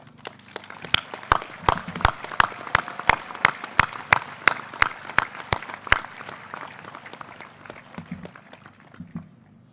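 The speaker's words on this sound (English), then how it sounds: "They're going to stand up and we're going to clap for them." Applause for board members at a high school graduation ceremony, a steady run of sharp, evenly spaced claps ringing loud across the hall before fading out near the end.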